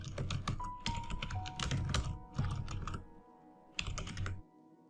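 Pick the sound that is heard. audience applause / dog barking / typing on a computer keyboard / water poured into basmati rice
typing on a computer keyboard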